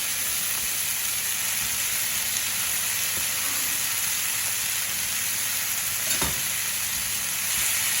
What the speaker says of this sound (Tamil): இதில் நம்ம எல்லா வெஜிடபிள்ஸும் போட்டு கொஞ்சம் சாட்டே பண்ணிட்டோம்.